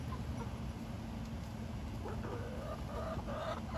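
Hens cluck in a backyard coop, short soft calls rising over a constant low hum of background noise.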